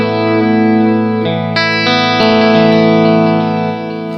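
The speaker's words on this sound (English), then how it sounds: "The flight time delay sounds like this." An electric guitar plays sustained chords through a Free The Tone Flight Time delay pedal, with repeating echoes layered over a few chord changes, loud and close, with no talking.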